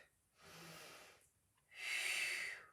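Two slow, audible breaths during a Pilates mobility exercise: a soft inhale followed by a louder, airy exhale through the mouth, close and alone.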